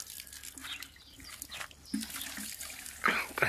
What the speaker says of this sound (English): So this is how we pour, sprinkle water